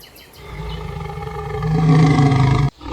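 A lion gives a loud, close roar that swells from a low groan into a deep, sustained bellow and then cuts off abruptly, with nobody talking.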